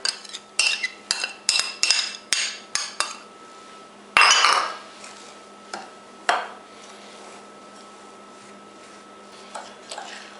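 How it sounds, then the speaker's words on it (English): A spoon scrapes and taps against a bowl stirring graham cracker crumbs in a quick run of strokes, followed by a few louder clanks, then sparse clicks. "you mix this until the graham crumbs look like wet sand"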